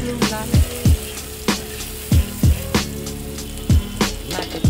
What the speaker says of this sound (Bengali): তো আমি এই যে পেঁয়াজগুলো ভেজে নিচ্ছি